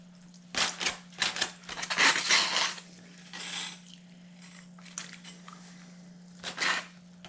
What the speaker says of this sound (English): We're going to cut off a little piece here.